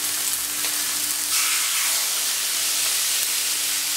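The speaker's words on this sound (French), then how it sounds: "Et nous allons cuire nos magrets qui ont mariné pendant au moins 2 heures." Marinated duck breasts (magrets) frying skin-side down in a pan, giving a steady broadband sizzle and hiss of rendering fat, close and continuous, slightly louder after the first second, with no talk.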